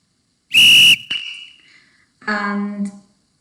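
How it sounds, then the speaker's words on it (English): A referee's whistle sound effect, played back by a Scratch program, gives one loud, sustained shrill blast lasting about half a second, followed by a fainter electronic tone and then a brief buzzy, tonal burst. "I should hear the referee's whistle."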